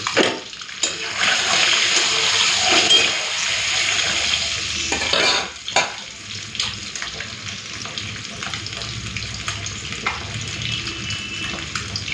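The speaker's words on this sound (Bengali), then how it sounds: "তো ডিমগুলো লাল করে ভেজে নিলাম, তুলে নিই।" Eggs frying to a reddish brown in a pan for a Bengali egg curry, with a steady close sizzle and occasional stirring scrapes throughout, no talking.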